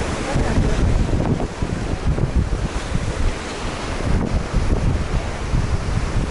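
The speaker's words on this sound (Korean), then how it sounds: "바람이 갑자기 많이 부네요." Strong, gusty wind buffets the microphone on a seaside coastal trail on the Homi Peninsula, a loud, constant roar mixed with surf washing in from nearby.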